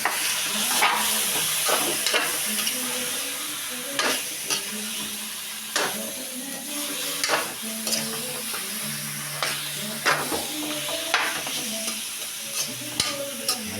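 Pork ribs (buto-buto) and onions sizzle and fry in oil in a pan for kaldereta, with a steady hiss broken by repeated sharp scrapes and clacks of stirring.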